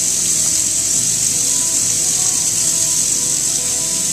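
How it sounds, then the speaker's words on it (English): Steady tap water runs into a sink while hands are rinsed during handwashing, a loud continuous hiss that stays even throughout with no talking. "Once you wash, you can turn the water back on to rinse."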